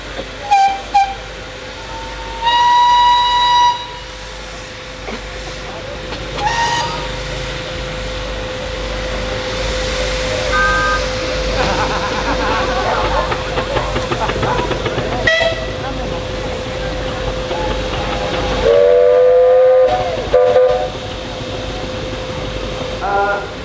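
A Sentinel steam engine on pneumatic tyres hisses and chuffs steadily at a steam rally, with a few short whistle blasts and a sustained tone, loud and close.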